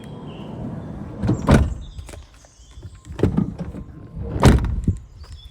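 A car door swings shut with a couple of solid thunks and latch clicks, close by and fairly loud, with some handling noise between them.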